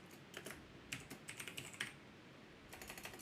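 Keys on a computer keyboard clatter in quick, faint bursts, with a few clustered taps, a short pause and then another run of typing, heard quietly and close with no voices.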